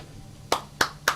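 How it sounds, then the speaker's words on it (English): Three sharp hand claps, close and distinct, in a slow, slightly uneven rhythm after a brief quiet start. "Let me clap it up for you, dog."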